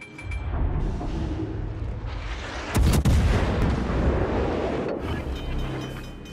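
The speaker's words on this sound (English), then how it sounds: "Let's open fire on the enemy warship." Warship guns boom in the naval game World of Warships Legends, a heavy rumbling roll of fire with one sharp, loud blast at its peak, followed by a lingering low roar.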